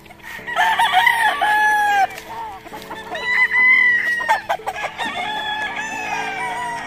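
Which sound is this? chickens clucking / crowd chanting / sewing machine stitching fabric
chickens clucking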